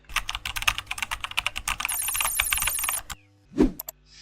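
Rapid clicking of a computer keyboard as text is typed into a PowerPoint text box, a dense run of close keystrokes for about three seconds, then a pause and one louder single knock.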